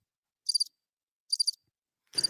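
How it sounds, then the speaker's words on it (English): Cricket chirping as a sound effect: three short, evenly spaced trills of bright pulses, each about a quarter second long, with the last burst rougher and noisier. Silence falls between the bursts, and no voices are heard. "Let me give you the crickets if you want it."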